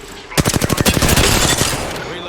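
Rapid bursts of video game gunfire strike the player, a fast rattling volley of closely spaced shots lasting about two seconds, loud and dense with a faint voice in the background.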